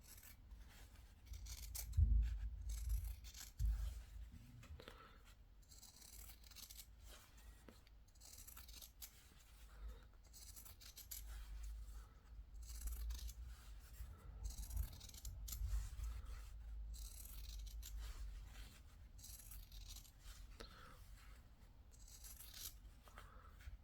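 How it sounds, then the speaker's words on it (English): Scissors trim close along a stitched fabric seam for a sailor hat, with repeated soft snipping, rubbing and scraping near at hand and a few louder handling thumps early on. "trim that seam fairly close to your stitching"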